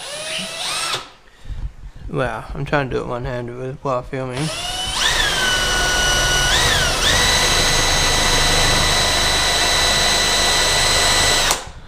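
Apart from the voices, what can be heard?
power drill drilling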